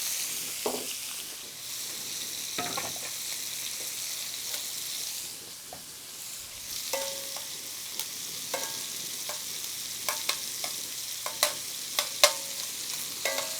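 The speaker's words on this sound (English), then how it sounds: "I like to get a good sear on those. Listen for the sizzle." Shrimp searing in batches in a hot pan give a steady frying sizzle throughout, with occasional sharper pops and crackles near and loud, and no talking.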